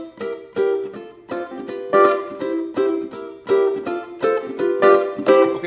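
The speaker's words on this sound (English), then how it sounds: "try to get a little bit more of a swing type of rhythm into your playing" Ukulele strummed in a swing rhythm on closed-string chords, a steady run of bright, evenly accented strokes repeating in short bursts, played alone and close up with no voice.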